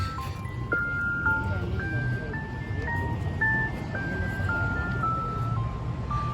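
Chevrolet ice cream truck with a Wolo 345 horn plays a clear electronic chime melody, a steady sequence of bright single notes stepping up and down over a low engine idle near a railroad crossing.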